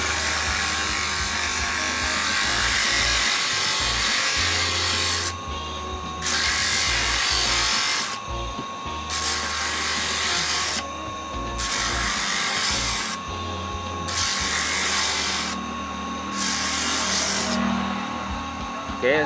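Small rotary power tool sands a stone ring of emerald or jade set in a coconut-shell band, whirring loud and close in repeated bursts with short pauses between them.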